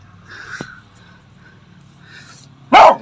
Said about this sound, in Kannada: ಅಷ್ಟೊತ್ತಿಂದ ಬೊಗಳ್ತವನೆ